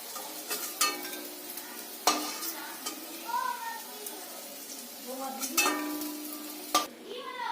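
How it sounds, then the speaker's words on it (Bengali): Beetroot cutlets frying in a pan, with steady close sizzling broken by several sharp scrapes and clinks of a spatula. A voice speaks intermittently over the cooking. "এভাবেই আমি সবগুলোকে ভেজে নেব"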